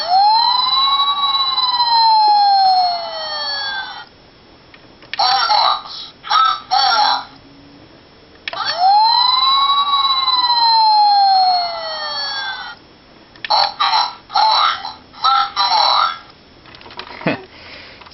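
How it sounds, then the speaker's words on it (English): A Transformers Robots in Disguise Optimus Prime toy plays loud electronic siren sounds: two long wailing blares separated by bursts of short, choppy siren chirps, close and alone. "there are two different siren sounds. One where it's just a short siren blare, and the other is a longer siren blare."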